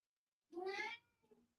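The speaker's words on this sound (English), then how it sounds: "The cat disapproves." A cat gives a single clear meow close by, rising then falling, followed by a softer short trailing chirp-like sound, with silence around it.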